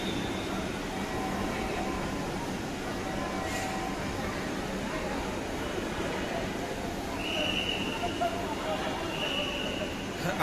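Dhaka metro rail train in motion between Uttara South and Pallabi stations, a steady rumbling roar with a faint whine rising near the end, heard from inside the carriage without talking.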